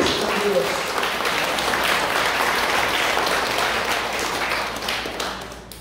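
A church congregation claps loudly and steadily, dense applause filling the room for several seconds and tapering slightly at the end.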